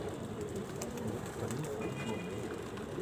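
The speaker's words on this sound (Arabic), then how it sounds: "فرد حمام" Pigeons cooing in a loft, soft repeated low coos amid background bird activity and a faint murmur of voices.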